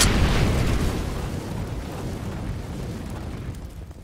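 An incendiary grenade goes off in a shooter video game, a loud, sustained burst of fiery roaring noise that starts strong and slowly fades over several seconds, with no talking.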